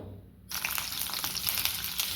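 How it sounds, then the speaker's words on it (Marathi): Onion frying in 1-2 tablespoons of oil in a kadhai, a sudden burst of close sizzling crackle that continues steadily with small pops and stirring scrapes. "आता आपल्याला ना कांदा छान असं शिजवून घ्यायचा आहे"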